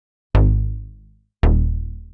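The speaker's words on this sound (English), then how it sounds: "It's just a serum patch." A Serum synth patch plays 80s-style bass: two loud, sustained low notes, each struck sharply and then fading, with a short gap between them and no other sound.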